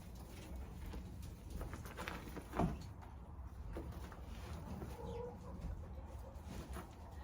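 About eleven hens cluck and murmur softly in a coop, with occasional sharper calls and some rustling throughout.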